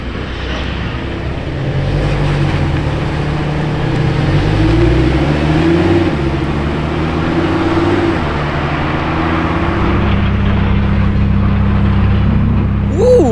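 A V10 supercar engine runs close by, a loud, sustained, rumbling tone whose pitch climbs and falls through revs and stays strong throughout.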